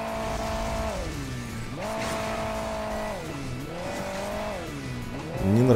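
Racing game vehicle in a desert cup stage of Hill Climb Racing 2, its engine tone loud and steady, rising and falling in repeated revving sweeps with a brief squeal near the end.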